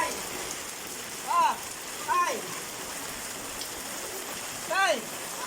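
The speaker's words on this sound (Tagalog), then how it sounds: "Diretso ulan, tapos malakas ang hangin." Heavy rain pours in a constant dense hiss during strong wind and flooding, with a few brief voices calling out faintly over the downpour.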